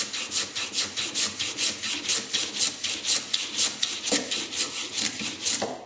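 A wooden brace for a 1920s Gibson L0 acoustic guitar is thinned by hand, giving a rhythmic rasping scrape repeated about three times a second, close and loud, with no talk.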